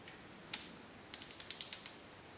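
Series of sharp ratcheting clicks from a wrench tightening engine bolts to 30 Nm on a VW T25 during an engine rebuild: one isolated click, then a quick run of about seven evenly spaced clicks, close and fairly quiet.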